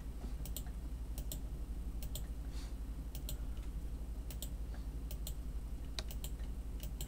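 Light tapping on a computer keyboard, including presses of the Shift key, heard as sparse, quiet key clicks spaced irregularly over a steady low background hum.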